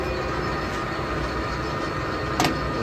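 A 15-inch by 30-inch LeBlond toolroom lathe turns at 494 RPM while its carriage feeds toward the chuck, making a steady whirring machine drone with one brief clack near the end. No one speaks.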